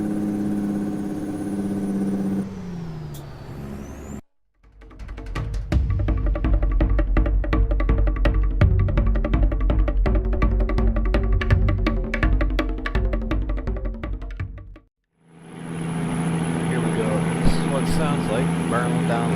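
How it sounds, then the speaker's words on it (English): A CAT CT660 truck in American Truck Simulator, heard from inside the cab, runs its engine brake with a loud, rapid staccato rattle lasting around ten seconds between smoother engine drone. "And here we go, with engine brake from the inside."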